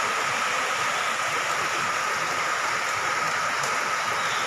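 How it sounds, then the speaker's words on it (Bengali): Steady rain falls outdoors with a continuous, even hiss, loud and constant throughout with no voices. "এখন আবার বৃষ্টি পড়ছে"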